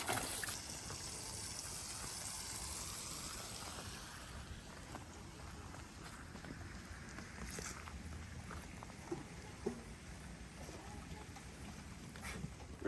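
Water trickling and splashing quietly into a livestock water trough on a homestead, a faint, steady flow with occasional small knocks and no talk.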